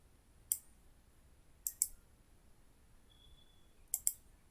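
Computer keyboard keys pressed in short bursts, a few crisp, close clicks spaced apart in a quiet room, with no talk.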